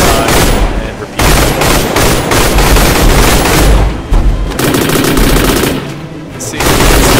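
Gunfire in the video game Orion: Dino Horde as T-Rexes are shot, loud sustained bursts of rapid shots and booms with brief gaps between volleys.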